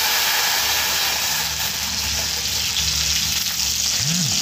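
Water hits a hot pan of frying cumin and coriander, producing a loud, continuous, close-up sizzle and hiss that fills the whole stretch without talk.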